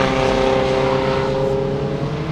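A Mk5 VW Golf diesel race car roars loudly along a track, its strong steady engine note sweeping past close by with no voices.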